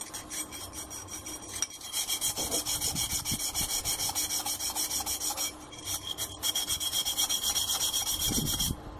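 The rim of a glass cup is sanded by hand with steady, rhythmic scraping strokes that stay close and loud for most of the span, pausing briefly once or twice. No one speaks.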